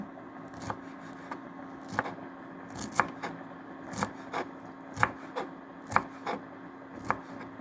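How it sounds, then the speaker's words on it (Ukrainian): Steady knife chopping fresh herbs on a board, sharp taps coming roughly once a second over a low background hum, with no talking. "я нарізаю зелень"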